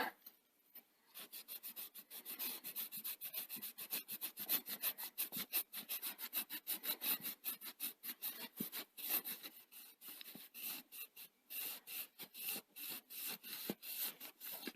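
A cloth with isopropyl alcohol rubs the head drum of a Sony SL-HF100 Hi-Fi Betamax, making a close, steady series of quick scratchy strokes in an even back-and-forth rhythm with no talking.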